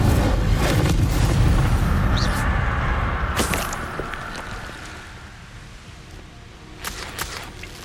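A fire spell cast in the video game Hogwarts Legacy bursts out as a loud, heavy booming whoosh that rumbles and slowly fades over several seconds, followed by a few faint crackles near the end.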